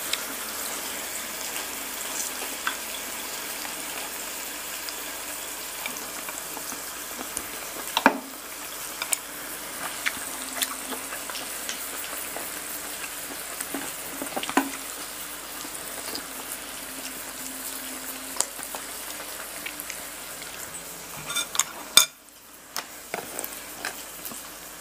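Steady, crackly sizzling of bacon frying in a pan, with occasional louder pops and clinks throughout, continuous and close.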